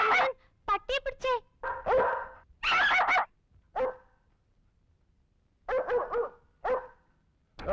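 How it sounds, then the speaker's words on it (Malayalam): A dog barks in short, loud bursts near a house in a Malayalam film scene, the barks coming in clusters with pauses between them while people talk nearby. "പട്ടിയെ പിടിച്ചേ"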